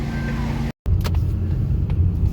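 A 2025 Mazda CX-30 with a 200-horsepower engine climbs a grade, giving a steady low road rumble and engine drone from inside the cabin, broken by one very brief dropout, with no talking.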